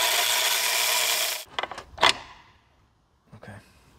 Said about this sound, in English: This is the loudest electric ratchet in the world.